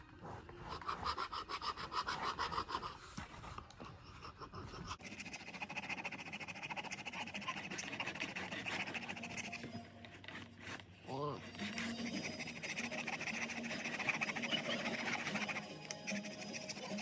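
An elk bone is sharpened against an abrasive into a hide scraping tool, with rhythmic rasping, rubbing strokes heard close up and continuing steadily throughout.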